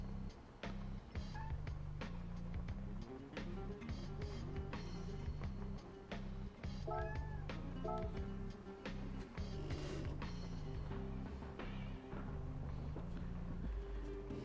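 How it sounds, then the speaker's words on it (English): A pet cat meows a few times, faint and in the background, beneath a steady low hum and scattered clicks in a quiet room. "Surely by now you can hear my cat."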